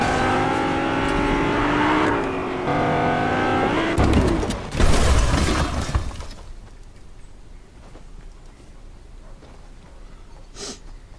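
A car driving in Fortnite, low on fuel, heard as a loud engine and road rumble that rises and jolts with a crash-like burst before fading to quieter sounds.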